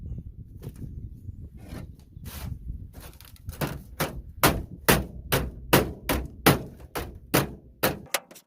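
Sharp metal hammer blows during a Thwaites 6-ton dumper restoration, starting as scattered taps and building into a steady, loud run of evenly spaced strikes close by, each with a short ringing decay.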